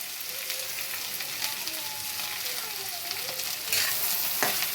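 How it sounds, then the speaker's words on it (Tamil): Steady, loud sizzling and frying as vegetables sauté in a hot pan for a traditional Tamil side dish with tamarind, with occasional stirring scrapes. "ஒரு 10 நிமிஷம்னாச்சும் நல்லா வதக்கணுங்க"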